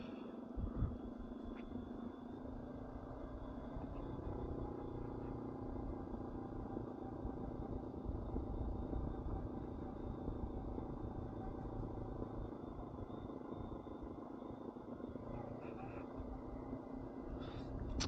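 A Honda CB500X motorcycle climbs a hill on gravel-covered blacktop, its engine a steady, fairly quiet low rumble from the rider's position, with wind noise and no talking.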